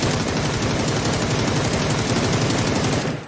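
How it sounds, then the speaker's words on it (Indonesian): A continuous burst of fast automatic AUG rifle fire in PUBG, loud and dense, lasting about three seconds before cutting off. "AUG menembakkan 38 tembakan dalam waktu 3 detik."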